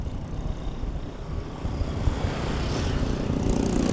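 Steady engine drone from passing motorbikes on Siargao Island, Philippines, a low rumbling hum that swells slightly toward the end, fairly close with no voices.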